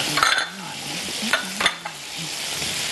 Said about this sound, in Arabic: بتنجان اهو مكعبات، انا بحطه الاول لوحده خالص عشان يتحمر